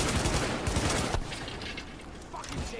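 Gunfire in The Division: a dense, loud burst of rapid automatic shots that cuts off abruptly, followed by quieter scattered combat noise.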